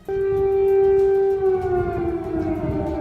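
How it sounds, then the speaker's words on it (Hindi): A loud air raid siren in Ukraine wails in one sustained tone that slowly sags lower in pitch as it fades. "वहां एक बार फिर सायरन की आवाज गूंजने लगी"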